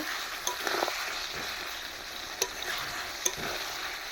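Meat and potatoes frying in a pan while being stirred, a constant sizzle with scraping and a few sharp clinks of the spoon against the pan, no talking.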